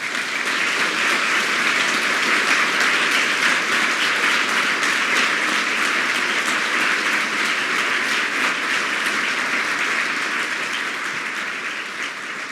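A large audience at a campus address applauds steadily and loudly throughout, a dense sustained wash of clapping that tapers slightly at the end.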